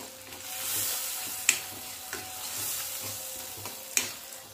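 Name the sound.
stirring garlic chutney in a pan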